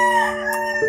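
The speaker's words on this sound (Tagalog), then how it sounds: "Manok lang pala." A single rooster crow sounds loud and near, a brief, strained call cut short within a second, with no voices over it.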